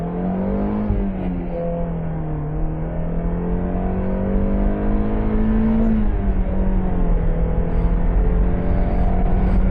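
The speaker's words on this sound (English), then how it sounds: "I'll show you guys what a little pull looks like in a 32-year-old Miata." A 1991 Mazda Miata accelerates hard on a night drive, its engine drone rising in pitch through a sustained pull heard from inside the cabin, loud and continuous with no voices.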